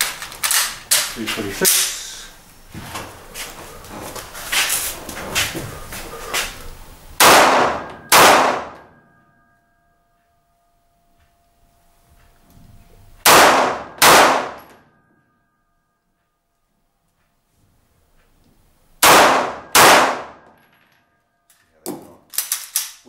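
A SIG pistol fires control pairs at steel targets at an outdoor range in New Zealand: sharp, loud shots in quick pairs with ringing metallic clangs, separated by quiet gaps, with a voice speaking briefly.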